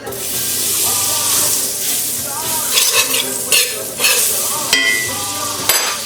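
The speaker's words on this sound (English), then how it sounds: "I'm going to add a little bit more olive oil and a little bit more butter for our butternut squash" Olive oil and butter sizzling loudly in a pan before butternut squash goes in, a dense continuous close hiss broken by a few sharp spatula scrapes and taps, with no voices.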